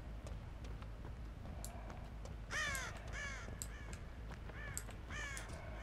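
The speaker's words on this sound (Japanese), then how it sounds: "あ、カラス飛んだ、あそこにいる。" A crow in the Dead by Daylight horror game caws in several harsh, repeated bursts as it takes flight, heard close over a steady low ambient rumble with no one talking.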